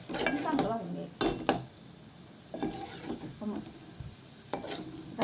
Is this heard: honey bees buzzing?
no